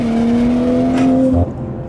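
The tuned BMW 540i G30 gives a loud, close engine drone as it climbs steadily in pitch under acceleration. The sound cuts off sharply near the end, as if on a gear change or lift-off, and settles into a lower rumble.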